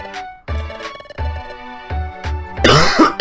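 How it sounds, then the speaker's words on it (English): A person coughs loudly at close range, about five harsh bursts in a row followed by a rougher, noisier hack. "Coughing."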